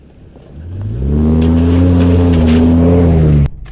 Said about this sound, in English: I like driving through puddles.